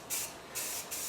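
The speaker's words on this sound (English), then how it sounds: "my first coat when I spray bomb is just a dust coat" A spray paint can lays a light dust coat on a barrel during work on a 1953 GMC truck, three short hissing bursts close by with brief pauses between.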